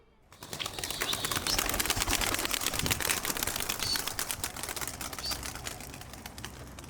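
Mardin tumbler pigeons flapping their wings in a dense, continuous burst of rapid flutter that starts abruptly and stays loud and close before easing slightly toward the end.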